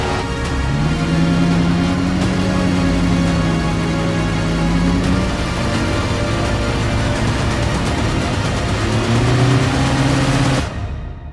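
A 1500-horsepower Mercedes GT63S engine runs steadily and loud for about ten seconds, a continuous rough roar with low droning tones that rise and fall slightly, cutting off abruptly near the end; no one talks over it.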